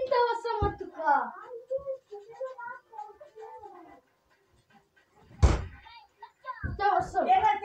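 Doors in a home bang and slam a few times, giving sharp loud thuds, one especially strong about two-thirds through, amid lively chatter and children's voices.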